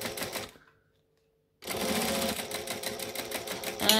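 A sewing machine back stitches along the edge of a bi-fold wallet: a short burst of rapid needle clatter, a brief silent pause, then a longer, steady mechanical run, close by.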